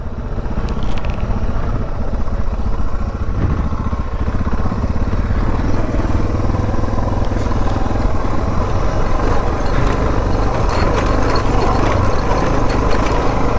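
An off-road motorcycle engine runs continuously while descending a mountain trail, a rough, steady mid-pitched drone close to the rider with gravelly rattles and brief surges, and no talk.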